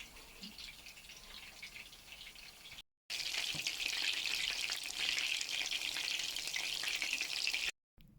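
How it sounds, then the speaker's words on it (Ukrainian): Food sizzles and crackles steadily in a hot pan, frying onion and carrot for pasta, the frying growing louder after a brief cut and continuing without talk. "я буду смажити"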